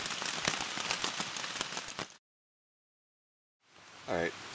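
Steady rain patters on a tent or shelter along the Appalachian Trail in Vermont, a dense close hiss that cuts out briefly, then returns beneath a faint voice.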